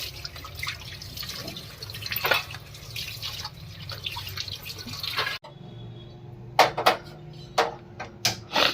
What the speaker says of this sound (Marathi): धुते धुवून घेते भाजी चांगली